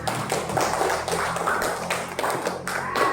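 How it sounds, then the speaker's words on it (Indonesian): A classroom group claps together after a student group's presentation, a dense run of steady handclaps carrying through the whole stretch at moderate loudness, with no talking over it. "Mari tepuk tangan dulu."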